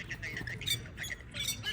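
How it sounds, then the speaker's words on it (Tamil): Mynah birds in Srinagar, Kashmir, squawking and chattering, several harsh, scratchy calls overlapping in quick bursts at close range, with faint background murmur. "எவ்வளோ மைனா பார்த்தீங்களா, குட்டி க்யூட்டு"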